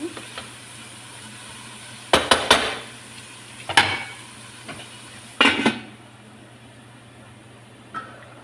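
A metal lid set down onto a cooking pot of rice with tuna, several sharp close clanks and rattles spaced over a few seconds against a low steady hum.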